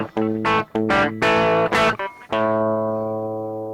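Electric guitar through a Fender Dual Pugilist distortion pedal, a few loud, thick distorted chord stabs and short riffs ending in one sustained chord that rings out and slowly fades, with no talking.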